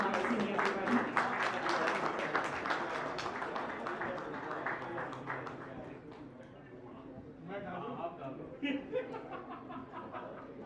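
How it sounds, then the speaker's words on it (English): An audience at an award ceremony claps for a winner, a moderate round of applause with a few chuckles that fades, then scattered claps return. "Big round of applause for Rahul Kumar Singh, everybody."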